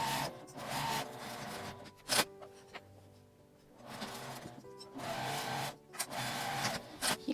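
Home sewing machine stitching a straight seam with a 2 cm allowance on a machine cover, its quiet whirring runs broken by pauses and a few sharp clicks and handling noises, close and soft.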